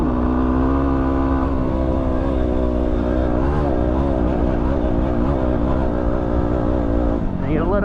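A Yamaha WR250R dirt bike is ridden hard up a sand dune in the Simpson Desert. The engine note is loud and sustained and wavers as the revs rise and fall with traction, then it drops off at the end. Voices come in at times.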